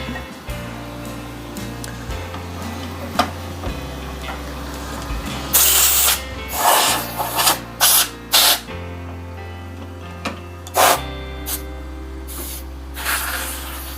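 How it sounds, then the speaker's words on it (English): Compressed air blowing dusty shavings off a turned shaving brush handle in the workshop, several short loud hissing blasts in irregular bursts over a low machine hum. "And I'm just blowing a lot of the dusty shavings away from everything."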